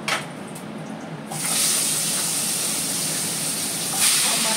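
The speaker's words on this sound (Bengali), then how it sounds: "চলো মাছটা ভেজে নিয়ে ফিরে আসছি।" Pieces of fish sizzle in plenty of hot oil in an uncovered pan over a high gas flame; a strong, steady, close frying hiss swells up after a quieter first second and keeps going.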